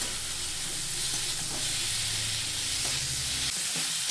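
Ridge gourd pieces are stirred in a pan with little oil while cooking for a light pabda fish curry, giving a dense, continuous sizzling hiss with soft scraping of the spoon throughout.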